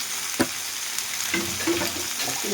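Chicken liver frying with chopped tomato, green chilli and bay leaves, a continuous close sizzle with a sharp knock early on and soft scraping stir sounds, no talking.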